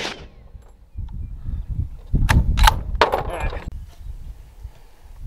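Gunshots strike a 3/8-inch AR500 steel target frame outdoors, a few sharp metallic cracks bunched together mid-clip with ringing, over low rumbling background noise.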